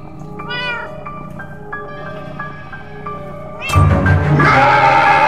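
A cat meows repeatedly in the Minecraft Story Mode video game, a string of short, clear, rising calls close up, followed by a sudden louder burst of mixed game sound and music.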